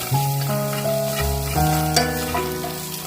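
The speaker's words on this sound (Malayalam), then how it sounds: "ഈ മുട്ട ഇടുക. മുട്ടയിട്ട് നന്നായിട്ട് ഇളക്കി കൊടുക്കുക." Egg frying in a pan over a low flame while being stirred gives a continuous sizzle with light stirring scrapes, played under steady background music.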